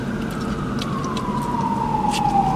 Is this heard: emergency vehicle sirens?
yes